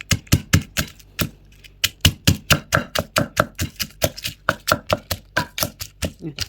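Coarse chopping of garlic and coriander seeds for a pork rib marinade, a fast run of sharp knife strikes on a board, close and steady, roughly four to five per second with brief pauses.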